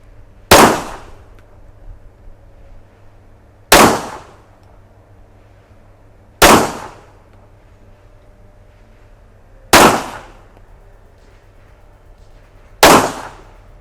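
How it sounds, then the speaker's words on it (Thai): Glock 17 pistol, French Army model, fired at a range from about ten yards: five loud, sharp shots spaced roughly three seconds apart, each with a short ringing decay, with no talking. "เริ่มยิง"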